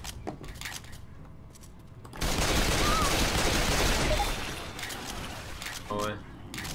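Gunfire in a video game, a dense, loud burst of rapid shots lasting about two seconds, with people talking before and after.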